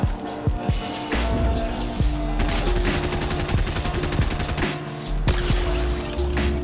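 Rapid bursts of mammoth pistol fire in Fortnite ring out, dense and loud, stacked over game music and effects through most of the stretch, with a short lull near the end.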